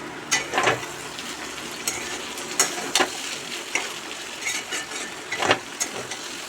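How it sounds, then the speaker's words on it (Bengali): Vegetables fry in a covered pan with a soft, continuous sizzle broken by several sharp clinks and taps of a utensil or lid, fairly close and without talk. "ঢেকে ঢেকে ভাজলে না সিদ্ধও ভালো হয়,"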